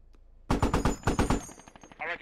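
Rapid bursts of video game gunfire from a military shooter with a BTR armored vehicle and smoke nearby, loud and close in quick rhythmic volleys, easing into a fainter rattle at the end.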